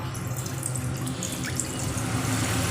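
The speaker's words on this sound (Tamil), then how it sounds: "இப்போ தண்ணியை வந்து இதில் வந்து அப்படியே ஆட் பண்ணிடலாம்" Water is poured into a kadai pan while cooking, a steady, close gushing and splashing that holds at an even level for the whole stretch, with no voices.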